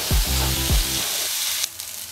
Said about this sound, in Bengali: পটলটা ততক্ষণ আগে ভেজে নিই।